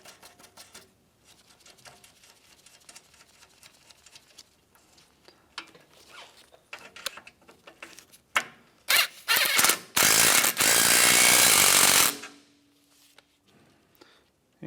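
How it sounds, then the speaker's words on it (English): A power tool runs a nut back onto an AC line stud on a 2007-2013 Mitsubishi Outlander. Faint clicks and rattles come first, then a loud, close mechanical buzz lasts about two seconds before cutting off. "slide your lock tab over, and we'll reinstall the nut now"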